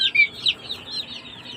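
Rhode Island chicks peeping inside their enclosure, a cluster of bright, high chirps up close that thin out into softer peeps, with no talking.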